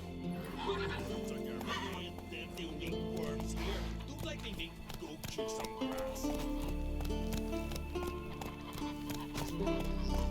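Roach the horse from The Witcher 3 neighs and whinnies over steady clip-clop hoofbeats, loud and close, with music playing underneath throughout.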